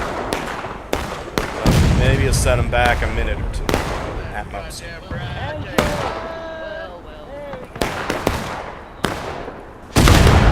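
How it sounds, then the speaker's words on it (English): Cannon and rifle fire from a Civil War battle video game set in the Manassas campaign: sharp booming blasts and volleys burst loudly and repeatedly, mixed with the game's battle noise while someone talks over them. "Disruption of the cannon fire does help."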